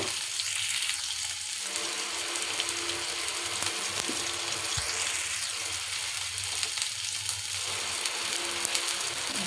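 Onions and green chillies fry in a pan, a steady close sizzle running throughout with occasional stirring scrapes and no talk.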